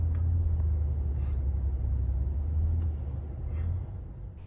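Heavy road traffic with many cars forms a continuous low rumble, with faint hisses and passing vehicles rising and falling in the background.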